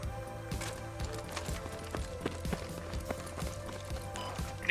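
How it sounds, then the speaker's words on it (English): Enemy footsteps in a tactical shooter game thud in a quick, steady running rhythm at moderate distance, layered over a low background hum with no talk. "Yeah, I can hear their footsteps."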